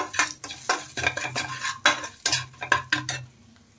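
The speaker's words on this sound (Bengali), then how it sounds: "এখন এই মশলাগুলো একটু হালকা ভেজে নেব।" Spices are stirred and lightly fried in a pan with a quick, rhythmic run of scraping strokes, each scrape catching a soft sizzle. The strokes come close and loud before stopping.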